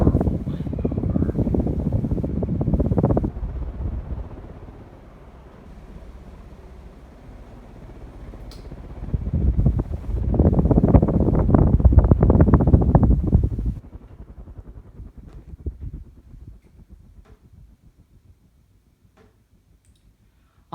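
A Casablanca Century 9000 50-inch ceiling fan runs with a steady low whir and faint ticking, swelling louder in two stretches before fading toward near silence at the end; no voices.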